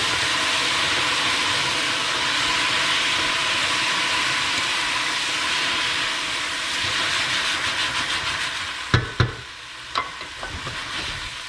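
White wine poured onto crisping rice in a hot pan for seafood risotto, a loud steady sizzle that swells and then breaks into a few sharp clanks and scrapes of a spoon near the end.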